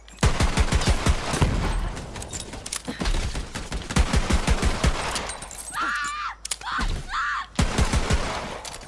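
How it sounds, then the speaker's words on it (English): Rapid bursts of automatic gunfire in Borderlands 3, loud and close, with fast repeating shots for several seconds, a brief break where a voice calls out, then more firing. "That was some damn fine shooting."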